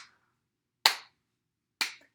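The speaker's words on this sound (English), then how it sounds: "Can you clap your hands for me?" Three crisp hand claps sound close and alone, the first cut short at the start, then two clean sharp claps spaced about a second apart in quiet.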